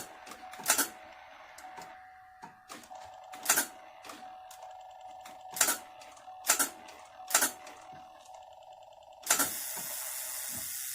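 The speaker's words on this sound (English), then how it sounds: "That noise that I'm hearing, that tapping noise, sound like the AC compressor is engaging also." Chevy Monte Carlo engine that cranks but will not start gives sharp intermittent mechanical taps and clicks, like an AC compressor clutch engaging, over a faint steady whine, with a longer burst of hiss near the end.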